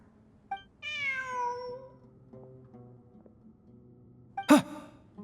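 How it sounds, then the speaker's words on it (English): A cat in the video game Genshin Impact gives one clear, drawn-out meow that falls in pitch, up close, followed by a quiet stretch and a short breathy gasp. "Look! A cat!"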